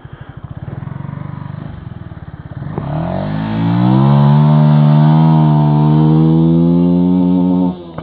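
An engine revs hard and then holds against the rev limiter, a loud sustained buzzing drone that bounces at the cut-off for several seconds before dropping away, after rougher idling and building revs.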